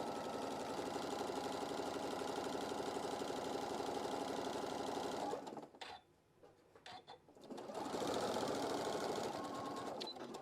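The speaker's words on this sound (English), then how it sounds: "we're just sewing all the way around." A sewing machine stitches around the edge of an egg pocket, a fast steady needle chatter that stops briefly for a couple of seconds, then resumes at the same even pace.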